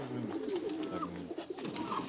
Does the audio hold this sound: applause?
no